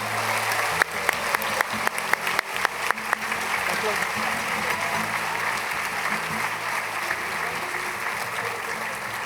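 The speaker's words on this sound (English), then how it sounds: "Please, let's give them a last round of applause" A graduation ceremony audience gives a full, continuous round of applause, broad and even, with a speaker's voice and a few sharp individual claps over it early on.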